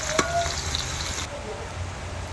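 Kamansi seeds hit a pan of cooked anchovies (dilis), setting off a close, steady hiss of sizzling with a sharp crackle at the start that eases slightly.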